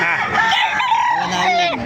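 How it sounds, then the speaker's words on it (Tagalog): Roosters crow loudly and close by with chickens clucking among them, long rising-and-falling calls overlapping through the whole stretch. "Maraming manok kayo dito mga kamaster"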